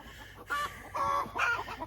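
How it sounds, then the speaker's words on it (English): Chickens cackle loudly in a coop, three agitated squawking bursts in quick succession with clucking between them, fairly close. "I'm starting hearing some of the awfulest cackling from the chicken coop."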